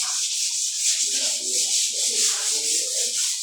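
Steady hand sanding of a wooden surface with sandpaper, a continuous close rasping rub with rhythmic back-and-forth strokes.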